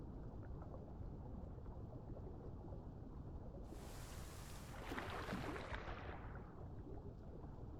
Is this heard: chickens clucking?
no